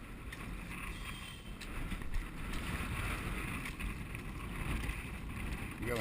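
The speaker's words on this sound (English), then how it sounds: "We got a nice strong wind out there coming from the south" Strong wind buffets a microphone aboard a sailing boat, a rough continuous rumble with gusts swelling and easing, close and fairly loud, with no voices.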